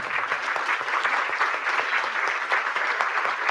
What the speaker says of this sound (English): I hope you can hear the clapping in the room